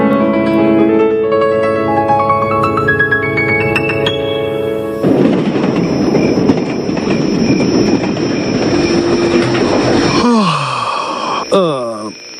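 A train on rails sounds a long, sustained horn chord. Then comes a loud, steady rolling rumble with a high whine, which ends in screeching wheel squeals as it slows.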